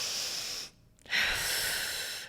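Someone draws a sharp, audible breath into the chest, shoulders lifting, following a loud steady exhale and a brief pause; the breathing is close and clear with no talking.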